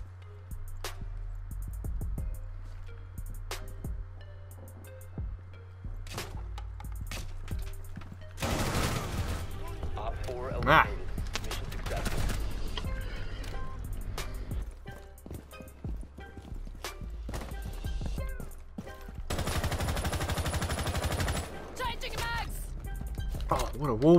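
Gunfire fired through a wall in the video game Rainbow Six Siege, rapid bursts of shots in two loud clusters over game noise, with a player talking excitedly throughout.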